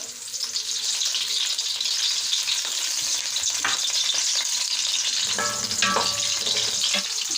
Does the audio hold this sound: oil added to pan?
yes